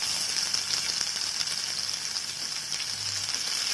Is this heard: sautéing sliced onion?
yes